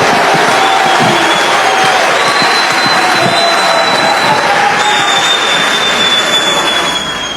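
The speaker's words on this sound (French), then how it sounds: "je vais vous demander d'applaudir avec tout l'amour qui est le vôtre, tous les orateurs et toutes les oratrices qui ont parlé aujourd'hui." A large crowd at a political rally in Benin roars with cheering and applause, a loud, unbroken wash of noise with drawn-out whistles sounding through it from start to finish.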